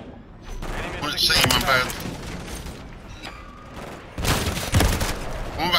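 Bursts of gunfire in a Call of Duty Domination match crackle loud and close, with rapid shots clustering in two heavy stretches while a player talks briefly over the action.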